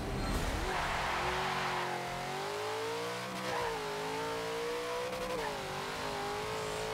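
McLaren 720S engine in Forza Motorsport 7 drag racing, a loud sustained high-revving whine that climbs and dips through gear changes, close and continuous, with no talk.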